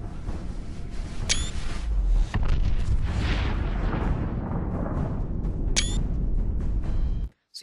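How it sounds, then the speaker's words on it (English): A nuclear blast in the video game Fallout 4 sounds as a loud, sustained roaring rumble lasting several seconds, with two sharp clicks on top, before it cuts off abruptly. "the nuke goes off and you can really see it there"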